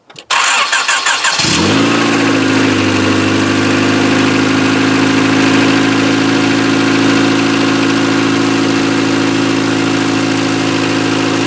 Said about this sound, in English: The engine sounds pretty good. No misfires.